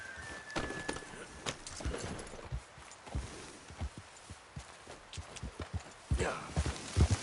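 A horse's hooves clip-clop in an irregular walking rhythm of sharp, close knocks, with scattered clatter and a louder burst near the end.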